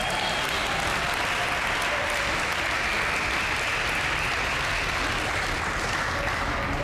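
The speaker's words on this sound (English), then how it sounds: "How about a round of applause to the commissioner?" Dense, continuous audience applause at a Boston Public Schools and Boston Bruins partnership announcement, honoring the commissioner; a thick wall of clapping from a large crowd, steady and loud throughout with no break.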